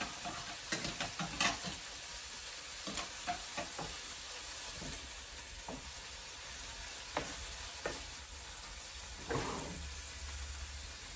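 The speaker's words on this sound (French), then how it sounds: "je remue un peu mon chocolat et mon beurre qui commence à fondre" Chocolate and butter melt gently over low heat in a pan while a utensil stirs them, making soft, intermittent scraping strokes over a quiet background hiss.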